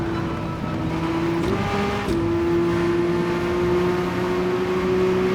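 A Porsche 962C Group C race car in Gran Turismo 7 drones loudly and steadily at high revs, holding one strong tone. A brief shift in pitch comes partway through, then the steady engine note continues alone.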